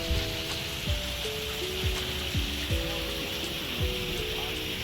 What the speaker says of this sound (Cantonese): 就已經聽到流水瀑布嘅聲音啦。